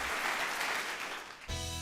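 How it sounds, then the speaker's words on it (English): Audience applause for a panel of experts at an energy festival event, a dense wash of clapping that holds steady and then cuts off abruptly near the end, with no voices over it. "a big round of applause for our experts here"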